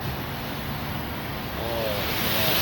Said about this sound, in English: it's been 10 minutes letting this thing soak, and we're going to rinse it off now.